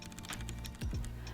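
A custom mechanical keyboard being typed on nearby, a quick run of crisp clacking keystrokes in an uneven rhythm over a low background hum.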